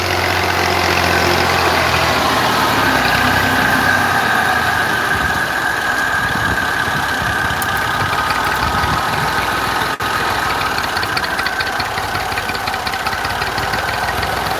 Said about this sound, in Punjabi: ਖੁਦ ਆਪਣੇ ਟਰੈਕਟਰ 'ਤੇ ਬੈਠਾ MF 240